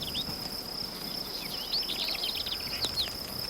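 A male cricket chirps continuously in a natural setting, a steady high-pitched trill, while faint bird calls flutter over it in the background.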